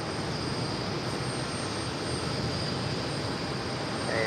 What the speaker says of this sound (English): It's the flight to Cancun A321, JetBlue flight 1051. Now rolling down 4 left.